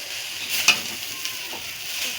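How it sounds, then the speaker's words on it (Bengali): Chow mein with vegetables sizzles steadily in a hot pan while a utensil stirs and tosses it, producing a soft continuous frying hiss with a few light scrapes and taps. "ভালো করে নাড়াচাড়া করে নিতে হবে"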